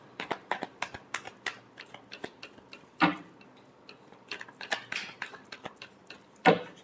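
Tarot cards are shuffled by hand close by in a quiet room: a rhythmic run of crisp taps and slides, with two louder riffling bursts.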